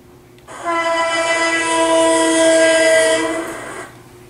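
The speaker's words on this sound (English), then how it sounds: "Joey blew his horn impatiently." A steam-era engine's horn blows in one long, loud, sustained blast of steady harmonic tone, held for about three seconds before cutting off, with no talking.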